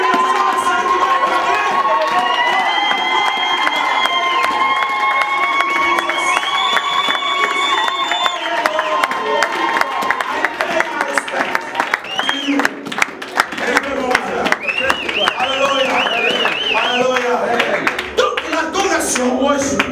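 A church congregation at a worship service cheers, claps and shouts in acclamation, loud and sustained, with whoops and high voices rising above continuous rhythmic applause throughout.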